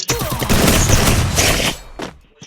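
Rapid bursts of video game gunfire, loud and dense, fill most of the stretch before trailing off into a few softer shots near the end.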